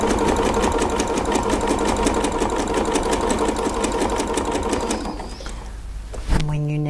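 A sewing machine runs continuously at a steady fast pace, stitching quilt fabric along a quilting ruler, then slows and stops near the end, loud and close.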